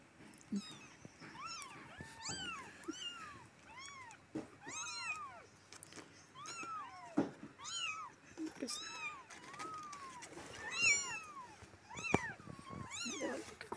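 Several small kittens meow repeatedly and close by, a rapid overlapping chorus of high, rising-and-falling cries that continues throughout with only short gaps.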